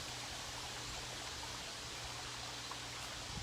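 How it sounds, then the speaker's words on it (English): Water trickles outdoors in a soft, steady, faint wash of noise with a low hum underneath and no distinct events. "and the trickling of the water."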